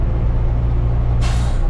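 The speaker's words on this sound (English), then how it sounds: "The air brake going off and all that stuff." A front-load garbage truck's air brake lets go with a loud, sudden hiss of escaping air near the end, breaking through a steady low diesel idle rumble that runs throughout.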